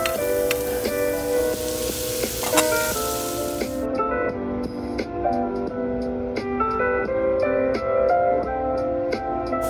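Chopped vegetables sizzle in a tablespoon of butter in a pan, a steady close frying hiss that continues the whole time, with music playing over it.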